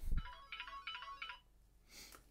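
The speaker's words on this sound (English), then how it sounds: "Shut the fuck up, phone!" A phone ringtone plays in short repeated bursts, three electronic melodic chimes followed by a brief pause and another ring starting, fairly close and clear with no talking.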